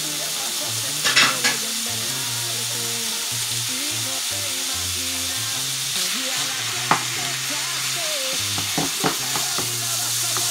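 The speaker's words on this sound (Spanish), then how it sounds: "estamos cocinando la carne" Meat for Taco Bell–style tacos cooks and is stirred in a hot pan, giving a constant close sizzle broken by sharp scraping and clacking strokes from the utensil.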